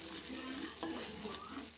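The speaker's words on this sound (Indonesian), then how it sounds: "Bisa kita pakai tumis bumbu halusnya hingga mendidih." A ground spice paste sizzles and fries steadily in hot frying oil as it is sautéed until bubbling, a continuous soft crackle with faint stirring.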